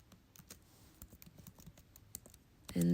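Rapid, uneven keystrokes on a computer keyboard while typing HTML code, close and moderately loud, ending in a louder burst of other sound.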